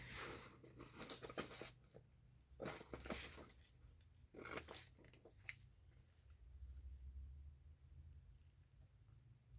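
Scissors snipping through paper in several quick bursts of cuts, close and fairly quiet, with short pauses and light rustling of paper between them.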